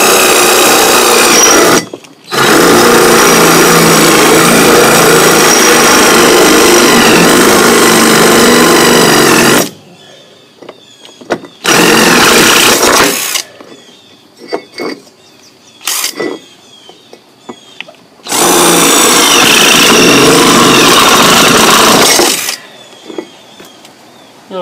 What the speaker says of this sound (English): First thing I'm going to do is drill two holes in it so we can put our anchors in there.